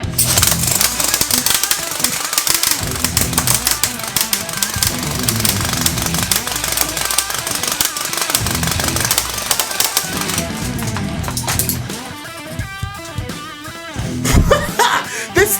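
A BB microgun fires long relentless bursts at a modular helmet, a dense rapid rattle of shots and impacts close by, with brief laughter mixed in.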